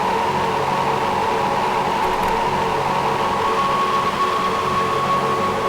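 A steady wash of noisy, hissing pad from a Jomox Alpha Base synthesizer, with a constant tonal hum, reverb and room size at maximum, heavily reverberant and unchanging throughout.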